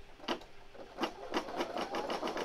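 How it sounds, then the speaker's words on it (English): Home embroidery machine sewing a reinforcing triple stitch on an in-the-hoop project, a close, rhythmic run of mechanical needle strokes that speeds into steady repetition without talk. "So now it's going to do the reinforcing stitch."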